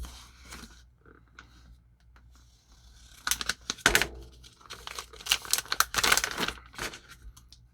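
A pocket knife slices open the packaging of an Oliver Green Mare watch: faint rustling at first, then close, louder bursts of crinkling and tearing plastic and cardboard in uneven spurts, with no talking.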